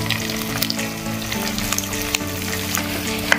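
Chicken sizzles and fries in a pan with onions and ginger paste, a steady crackling hiss at moderate level with occasional sharp pops and spatters throughout.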